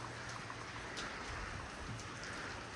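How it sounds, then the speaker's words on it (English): Heavy rain pours steadily in high country, with gutters running and water splashing, forming a dense, loud, even wash with no talking. "it's a substantial amount of rain that we're getting here"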